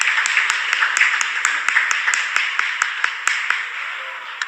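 An audience claps steadily for coaches, teachers and support staff at a school sports gathering: a dense, continuous wash of many hands, with a few sharper, evenly spaced claps standing out close by throughout.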